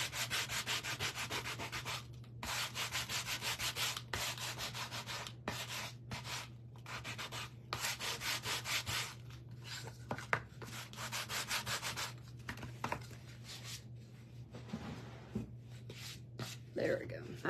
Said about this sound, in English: We'll use a sander.